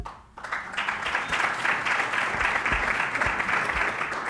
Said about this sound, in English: We'd like to extend a round of applause